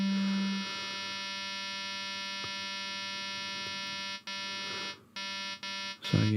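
Ensoniq EPS-16 Plus sampler playing a Transwave scrolled manually with the wheel, a steady buzzy sustained tone rich in harmonics with a few brief dropouts near the end, alone and moderately quiet.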